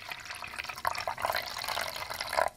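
Paint hardener, also called catalyst, is poured into a graduated mixing cup, making a steady, close liquid trickle with a few brief splashy bursts and no talking.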